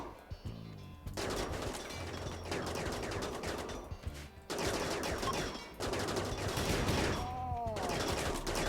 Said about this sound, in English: It is just going to be a matter of just shooting them down now.